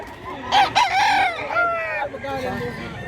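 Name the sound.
rooster crowing at a market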